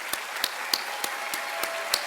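Applause fills a hall at a medical school white coat ceremony, a soft, somewhat distant wash of clapping with a few sharper claps standing out at a steady, regular pace.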